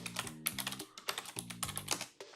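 Rapid keystrokes clatter on a computer keyboard, crisp and close, in uneven bursts with a few short pauses, over a faint low hum.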